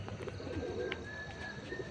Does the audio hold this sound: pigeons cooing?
yes